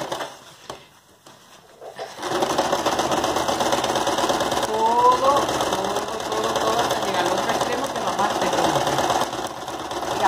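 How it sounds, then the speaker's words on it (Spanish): Sewing machine stitching ribbon tape onto the top edge of curtain fabric, a steady close mechanical whirring and rapid needle clatter that starts after a quiet opening and runs continuously, with a voice talking over it. "Entonces empezamos a coser lo que es la parte de la cinta de la parte de arriba"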